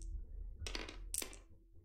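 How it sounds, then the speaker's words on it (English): Several dice clatter onto a table in two quick bursts during a tabletop board game, a close, sharp rattle with no talk. "So I come down here, and I'm rolling 4 dice."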